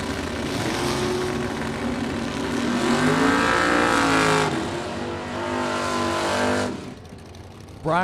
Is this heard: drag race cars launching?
yes